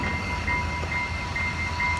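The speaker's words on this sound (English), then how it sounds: "And the train just got here." A train arriving at the station near Machu Picchu, Peru, a steady close rumble of railcars with a faint sustained tonal whine riding on top, no speech.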